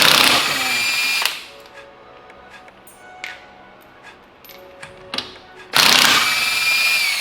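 A power tool, likely an impact gun, works on the lug nuts and washers of a wheel on a 2003 Mustang Cobra, with loud bursts at the start and end and clicks and rattles close by in between.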